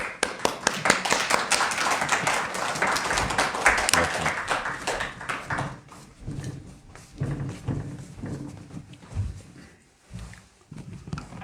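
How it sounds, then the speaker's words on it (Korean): A church congregation claps to welcome the pastor at a Palm Sunday and founding anniversary service, loud crowded applause for several seconds that thins into scattered claps and quieter murmurs. "우리 목사님 나오실 때 큰 은혜 받기 위함과 또 더 건강하시라고 우리 박수로 환영하겠습니다"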